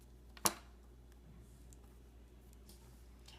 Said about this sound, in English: Now you want to cut your cap band off.